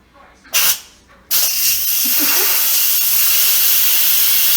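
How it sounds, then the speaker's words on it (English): Steam hisses loudly and steadily from an Instant Pot pressure release valve pushed open with a wooden spoon, following a brief earlier burst, with faint clatter beneath. "So I'm going to use this wooden spoon to actually release the pressure"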